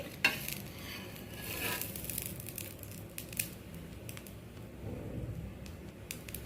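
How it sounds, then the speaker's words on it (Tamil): Bread toasts gently in a pan for a veggie omelet sandwich, giving a soft, steady sizzle with faint scraping and crackling touches, quiet and close. "நம்மளோட பிரெட் நல்லா டோஸ்ட் ஆகிட்டுருக்கு"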